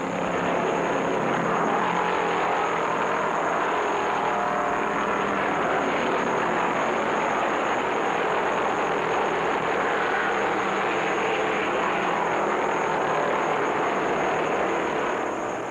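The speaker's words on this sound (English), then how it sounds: "David Pearson explodes out of a threesome down the main straight to take the lead as all cars pour into turn 2." 1973 NASCAR Winston Cup stock cars, including a Chevy, roar down the main straight at the Rebel 500, a dense continuous engine drone that stays loud and steady throughout with no talking.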